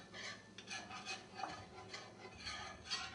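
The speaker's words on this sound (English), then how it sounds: "Mix this well." Flour being stirred into a pan to start a white sauce for mac and cheese, a soft steady scraping and rubbing of a utensil against the pan, quiet and close.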